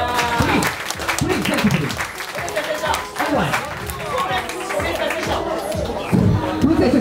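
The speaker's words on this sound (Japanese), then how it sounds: "皆さん大きな拍手を。" Wedding after-party guests applaud in a crowded room, sustained clapping mixed with cheering and chatter throughout, fairly loud and close.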